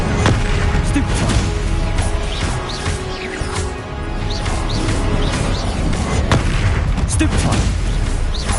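Repeated Stupefy spell casts during Hogwarts Legacy combat, a rapid series of sharp zaps and crashing impacts over a loud battle bed, with a person talking throughout.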